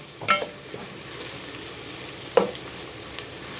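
Sliced green chillies sauté in a pan for mutton biryani, a low sizzle running throughout, broken by two sharper stirring scrapes, one early and one midway, plus a faint tap near the end.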